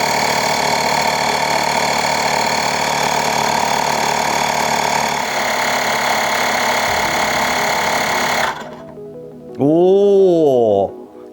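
A YANTU double-cylinder electric air pump inflating a tire runs with a loud, steady mechanical drone and rapid pulsing for several seconds close by, then cuts off abruptly, followed by a short rising-and-falling electronic beep.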